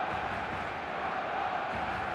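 Stadium crowd in the eFootball 2026 football video game, a steady, dense roar of many voices that holds at an even level throughout without clear peaks.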